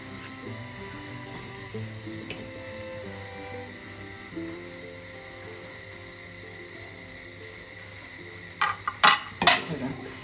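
Metal cookware clinks as a cooking pot is set on top of an old pan over a low gas flame, a quiet hum for most of the stretch, then a few sharp clatters near the end.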